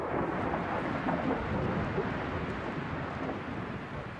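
Dense, continuous roar of rain and rumbling thunder in a film storm scene, loud and steady for the whole stretch with wind-like wash and no distinct separate claps.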